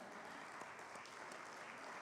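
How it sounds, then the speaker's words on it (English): An audience at a spring band concert claps in a steady, dense round of applause with no talk over it. "So let's have a big round of applause"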